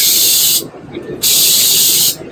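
An automated powder paint spray gun fires in two loud, steady hissing bursts, each about half a second to a second long, with a short quieter gap between them over a low background hum.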